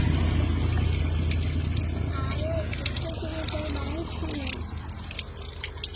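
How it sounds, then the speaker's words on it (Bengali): Cold spring water flowing out from inside a mountain, a loud steady gushing and splashing stream close by, with a voice talking over it. "এই যে পাহাড়ের ভিতর থেকে জলগুলা বেরোচ্ছে"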